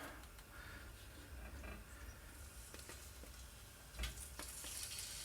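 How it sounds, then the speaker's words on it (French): Toulouse sausages brown in olive oil in a pot, giving a steady low sizzle and crackle with occasional stirring knocks, quiet and close. "on va commencer par faire revenir les saucisses de Toulouse"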